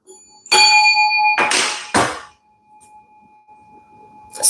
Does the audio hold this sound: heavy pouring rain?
no